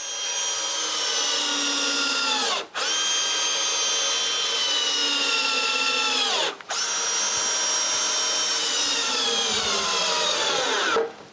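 Power drill driving screws into a 2x4 to reinforce the end of a wooden chainsaw mill, three long whining runs that drop in pitch as each screw bites, with brief stops between them, close and loud with no speech.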